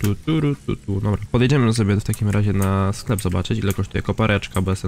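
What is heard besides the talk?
No everyday noise stands out behind the speech.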